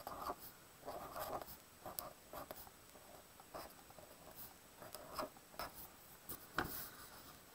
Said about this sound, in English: So I'm going to write a division problem.